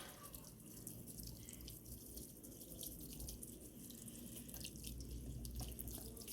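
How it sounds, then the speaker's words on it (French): Water trickles and splashes steadily nearby while autumn potted plant arrangements, including a chrysanthemum, are watered, a soft continuous flow with faint drips and no talking. "je vais aller arroser tout ça"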